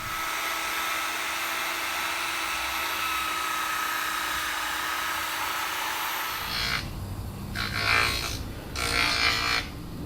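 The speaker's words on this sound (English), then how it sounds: "now we have it on a little grinding wheel to try and get it down so it'll fit inside." A small grinding wheel grinds down a metal disc, a steady high whine for several seconds before the load eases and the tone breaks into uneven bursts as contact comes and goes.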